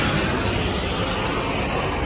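Steady broadband roar of a propeller or jet airplane passing overhead outdoors, loud and continuous throughout with no talking.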